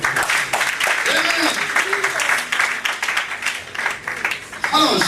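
A church congregation applauds and cheers to acclaim Jesus, steady loud clapping filling the room throughout, with a preacher's voice speaking over it.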